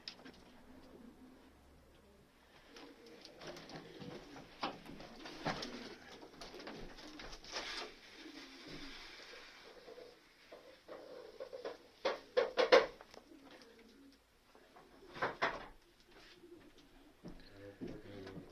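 Soft cooing of male pigeons in an indoor loft, low murmuring calls repeating irregularly with occasional wing flutters and brief louder bursts.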